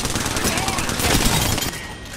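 Dense, continuous gunfire from an Apex Legends firefight, a steady rattle of overlapping shots running through most of the moment and easing slightly near the end, with game audio layered throughout.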